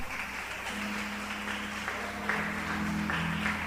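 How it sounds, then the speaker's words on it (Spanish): A church congregation applauds together, a dense, steady wash of clapping that holds for several seconds at an even level, with a low sustained tone running underneath. "¿Pueden darle un aplauso al Señor?"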